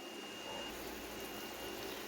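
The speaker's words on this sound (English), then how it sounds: "my water is boiling" Water heating to a boil in a pot on a stove, a steady broadband rush and bubbling hiss that stays even and fairly quiet throughout, with no talk.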